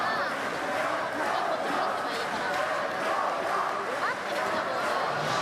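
A crowd at a para table tennis standing singles quarterfinal roars and cheers without letup, loud and dense, with shouts rising over the steady din.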